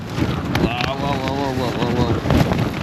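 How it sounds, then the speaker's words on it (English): Strong wind buffets a Hilleberg Soulo Black Label tent at a cold wild camp, making a continuous close roar and rumble while a voice is heard briefly partway through. "the wind's picking up and I can't get that tarp up. The tent's taking a beating."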